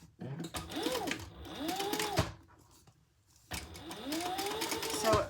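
A sewing machine runs in two bursts, stitching a crossbody bag seam flat, its motor whirring in rising and falling sweeps with a short pause between runs.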